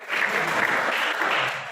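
Audience at a yoga and teacher-training session breaks into loud, dense clapping, many hands at once, sustained for under two seconds before easing slightly.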